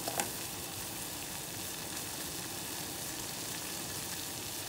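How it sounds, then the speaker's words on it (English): Metal grillz boiling in a pot of water, a steady dense bubbling hiss that runs unbroken throughout, with a couple of faint clicks at the very start. "Alright, so I'm about to boil my grills"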